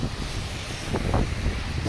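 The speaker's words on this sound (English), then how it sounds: "turns out there's quite a bit of wind." Strong wind roars steadily on top of a bridge during a snowstorm, a broad, buffeting rush with a couple of louder gusts and no voices.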